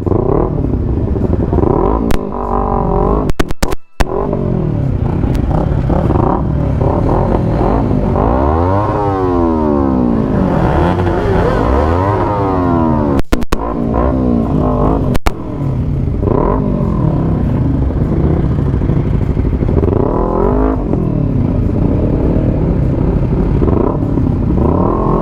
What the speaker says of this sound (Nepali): हाम्रो चाहिँ सुरु भइसकेको छ है हाम्रो बाइकहरू सबै निस्किसकेको छ